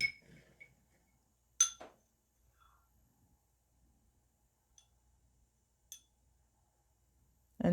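A metal spoon clinks against a glass while honey is measured into it by the tablespoon: a few sharp, isolated chimes spaced apart by quiet pauses, close and clear.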